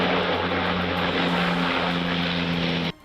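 A firefighting aircraft sent by Italy to Greece to fight wildfires flies close overhead, its propeller engine droning loudly and steadily before cutting off abruptly at the end.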